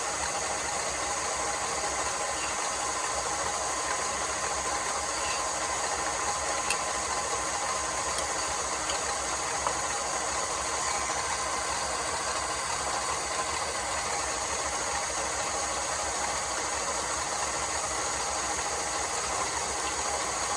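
An electric mixer whips dried egg whites, sugar and cream of tartar, a steady dense mechanical whir running continuously and fairly loud throughout with no pauses.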